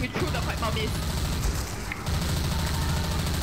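Loud, dense blasts and rumbling in Left 4 Dead 2, a thrown pipe bomb going off amid constant gunfire and chaotic game noise, with voices and a sharp burst near the middle.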